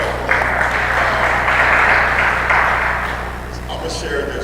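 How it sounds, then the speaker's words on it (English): People at a community round-table discussion on policing clap together in a brief, moderately loud round that swells and then fades, with a steady low hum underneath. "we can clap back for that"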